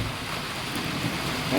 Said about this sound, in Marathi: कसं दिसतंय पाणी पडतंय.